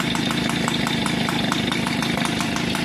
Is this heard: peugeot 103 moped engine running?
yes